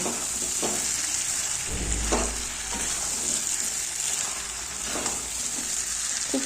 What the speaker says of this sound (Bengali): আলুটা দিয়ে একটু নাড়াচাড়া করে নেব